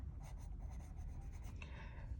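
Graphite pencil shading on paper, quick rhythmic scratchy strokes close up at varying pressure, followed by a longer smoother stroke, alone with no talk.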